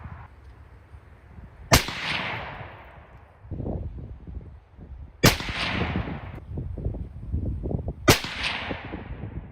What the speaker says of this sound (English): I'm gonna shoot the top target, top left of the target